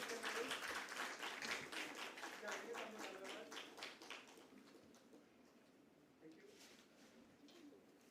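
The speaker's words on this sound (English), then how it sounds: "A huge round of applause, ladies and gentlemen." An audience applauds at a company's stock listing ceremony, brisk clapping that starts fairly loud and gradually thins and fades over several seconds, with faint background noise at the end.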